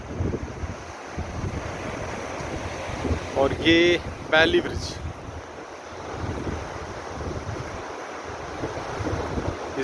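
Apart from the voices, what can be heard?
Sutlej river flowing below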